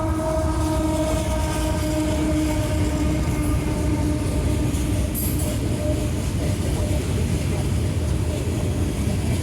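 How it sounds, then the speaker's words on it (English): A train rumbles steadily past by a river, loud and close, its horn tones droning continuously over heavy wheel and engine noise. "Here comes a train."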